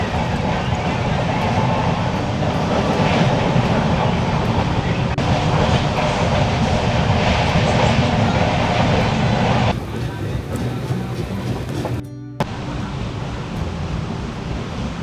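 A Konkan Railway passenger train runs from Panvel toward Ratnagiri in monsoon weather, giving a steady loud broadband rumble and rush of wheels and wind throughout, with an abrupt change in tone partway and a brief clattering burst near the end.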